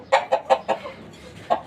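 A hen clucks in four quick, evenly spaced notes, pauses, then gives one more cluck, close by and clear.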